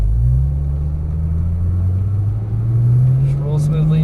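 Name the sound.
2012 Porsche 997 S engine on race track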